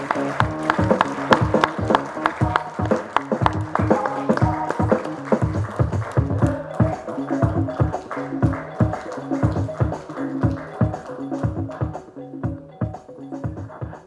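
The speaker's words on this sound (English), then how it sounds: "Please give a huge round of applause for Rebecca." An audience at an award ceremony and networking session for lawyers applauding an honoree, sustained dense clapping throughout with a steady rhythmic pulse, tapering slightly at the end, with faint voices underneath.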